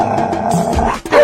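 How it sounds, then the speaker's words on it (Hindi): A short, gruff dog bark and growl, close and fairly loud, lasting about a second. "भौंकने वाले कुत्ते नहीं काटते।"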